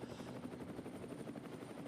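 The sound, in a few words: helicopter following race car at Nurburgring Nordschleife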